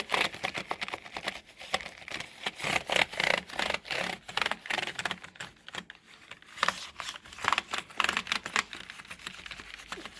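A computer keyboard is being cleaned, with dense rapid clicking and rattling of the keys, some of it crisp and some rustly, close and fairly quiet with no talking.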